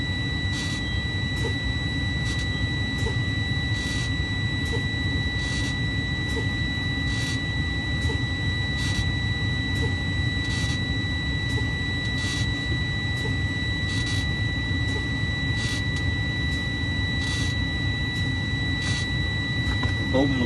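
In a truck cab during a pre-trip inspection, a steady electronic low-air warning buzzer drones with repeated beeps while the air brakes are pumped, accompanied by a constant engine rumble.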